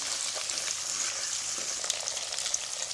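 Small onions sauté in a pan, a faint steady crackling sizzle with occasional soft stirring sounds and no voices.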